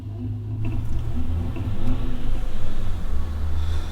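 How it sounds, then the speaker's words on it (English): Vans and trucks drive out of a supermarket car park at night, a low engine rumble that swells as they pull away, no talk. "A couple of vans and trucks still leaving the car park now."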